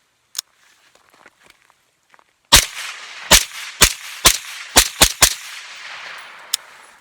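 A 300 Blackout rifle with an AAC 7.62 suppressor fires supersonic 147-grain rounds: a quick string of about seven sharp, close, loud cracks at uneven intervals. It is preceded by faint handling noises and ends with one lighter click.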